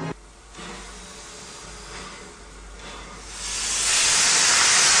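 A steam train on the Isle of Wight vents a steady hiss of steam that begins soft and swells into a loud, broad rush of escaping steam by the end.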